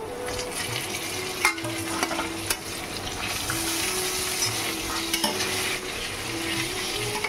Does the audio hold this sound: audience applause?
no